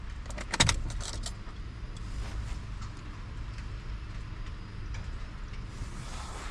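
A car engine, after a CVT transmission replacement, turns over after a brief clatter and settles into a steady, quiet idle, heard close by with no voices.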